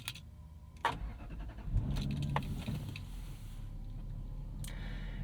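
A 1998 Lexus GS 400, a Michigan car with rust underneath, gives a few clicks and clunks before its engine fires and settles into a steady low idle rumble, close by and with no talking.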